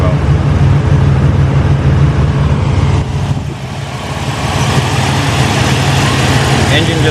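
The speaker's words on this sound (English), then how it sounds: "Engine just purrs like a kitten." A Buick GNX engine idles close by with a steady low rumble, dipping briefly in the middle before settling back into an even, continuous idle.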